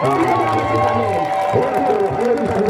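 A crowd applauds and cheers at a comedian's stage performance during a Workers' Day event, a dense, steady roar of clapping and voices throughout, with talk mixed into the noise.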